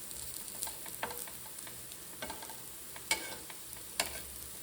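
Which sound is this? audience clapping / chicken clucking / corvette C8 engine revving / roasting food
roasting food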